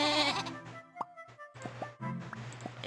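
A three-eyed sheep creature bleats in the video game Potion Commotion, several short, wavering bleats spread across the clip with a game tone droning underneath and a soft thwack near the end.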